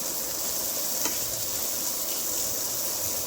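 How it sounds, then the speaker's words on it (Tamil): Chopped onions sautéing in oil for egg gravy give a constant soft sizzle with one faint tap of the spoon, close and steady, with no voices. "கொஞ்சம் வதங்கி வர வரைக்கும் வதக்கிக்கலாம்"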